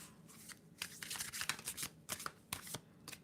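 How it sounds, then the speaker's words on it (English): Quick riffling bursts of cards being shuffled, several crisp flutters in irregular rhythm, close and fairly quiet. "One more shuffle."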